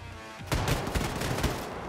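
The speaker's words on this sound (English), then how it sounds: "Oh, it's the nail gun." Nail gun firing in Wolfenstein II: The New Colossus, a sudden rapid burst of sharp repeated shots after a brief quiet moment, continuing for over a second.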